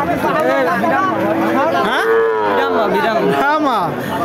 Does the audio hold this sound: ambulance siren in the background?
no